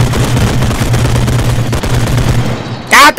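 Rapid automatic gunfire from the realistic shooter game Bodycam rattles loudly and continuously for several seconds, then a short burst of voice breaks in at the end.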